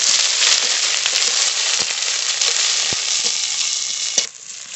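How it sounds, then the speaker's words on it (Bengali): Chopped onion fries in hot oil for a jute leaf dal tempering, giving a loud, dense, continuous sizzle close by that cuts off abruptly near the end, with no voices. "পেঁয়াজটা একটু ভাজা ভাজা করে নিয়েছি"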